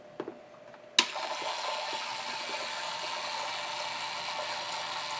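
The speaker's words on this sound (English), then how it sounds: "Look at his propeller spinning." A toy speedboat's propeller spins in the water of a bath or pool, giving a steady churning, rushing wash of water close by that starts with a sharp splash and runs on without pause.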